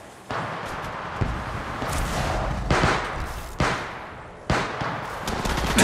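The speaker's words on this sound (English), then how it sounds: "Shots fired at me." Gunfire in the video game Apex Legends Mobile: several sharp shot bursts and bangs at irregular intervals over a continuous noisy battle backdrop, loud and close, each onset cracking sharply before trailing off.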